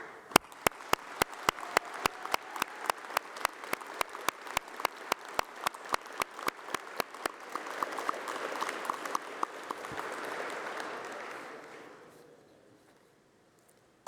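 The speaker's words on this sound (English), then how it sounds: "I would like if we could give the students a round of applause" Audience at a university graduation ceremony applauding the graduating students, with sharp, regular loud claps standing out over a broader wash of clapping that swells and then fades away.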